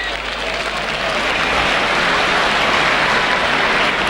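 A rugby league crowd at a Leeds v Auckland match cheers and applauds in a steady, loud roar that swells slightly and holds throughout.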